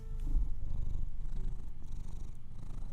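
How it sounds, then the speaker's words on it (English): A cat purrs on a person's lap, a close, steady, low rumbling throb that pulses evenly throughout with no voices. "You hear her purring? She's on my lap right now"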